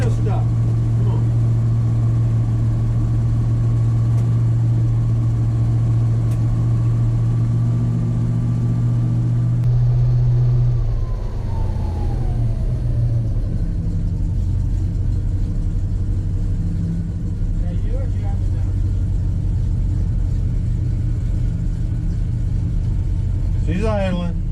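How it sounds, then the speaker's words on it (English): A 1977 Chevy K10 pickup idles with a steady, deep rumble that shifts and roughens partway through. Voices are faint in the background. "She's idling."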